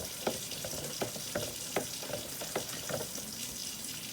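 A spoon stirs tea in a pot, making repeated light knocks and scrapes against the sides in an uneven rhythm over a soft watery wash.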